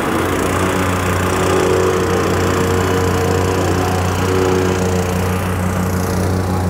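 A small compactor engine runs on a four-inch gravel base for a geogrid-stabilized retaining wall, a loud, steady, buzzy drone close by, with no voices.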